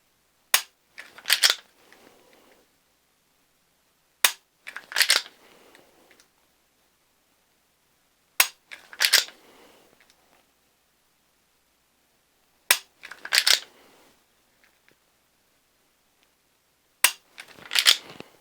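Dry-fire trigger presses on an unloaded pistol: five sharp metallic clicks, each followed by a brief secondary click and rattle, spaced about four seconds apart in near silence.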